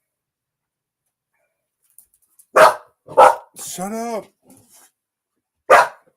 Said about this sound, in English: Why you gonna bark?